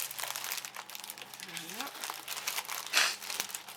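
Sheet of paper slid back into a plastic sleeve with a small piece of tape, close soft crinkling and rustling with a louder crackle near the end, a voice talking over it.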